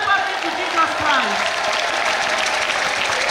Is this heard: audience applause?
yes